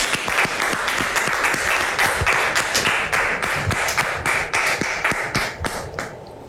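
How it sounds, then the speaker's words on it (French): A studio audience on a French-language talk show applauds steadily, dense clapping filling the room at close range and holding without a break until it thins slightly toward the end. "public, merci de recevoir Dame Bebo sous vos applaudissements"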